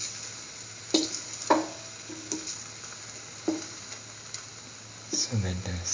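A chickpea tomato chili French toast sandwich fries in a pan with a low, steady sizzle, punctuated by soft scrapes and taps as it is moved around, while a voice speaks near the end.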